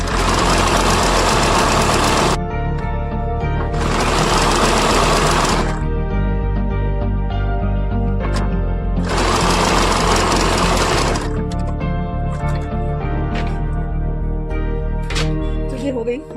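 A sewing machine stitching the lining of a bell-bottom palazzo pant, running loud and close in several long bursts separated by short pauses where a lower motor hum continues.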